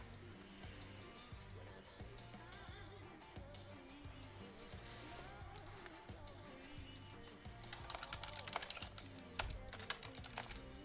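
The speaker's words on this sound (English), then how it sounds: "Let me get the draft board up and type this in." Typing on a computer keyboard, a steady patter of close key clicks that picks up into a denser, faster burst toward the end, with no clear talk.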